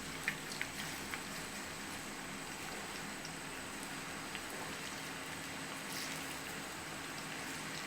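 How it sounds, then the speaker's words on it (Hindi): Pakoras frying in oil over moderate heat, giving a steady, soft, even crackle and sizzle with faint scattered pops, with no voices. "पकौड़े जो है वो तलना शुरू करते हैं"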